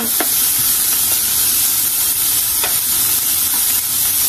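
Steady, loud sizzling of Filipino pancit bihon being stir-fried in a pan, a continuous hiss with a few faint scrapes and clicks of stirring and no voices.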